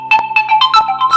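An Android smartphone speaker test plays a loud, bright, rapid ringtone-like melody of quick repeated electronic tones, heard close and alone.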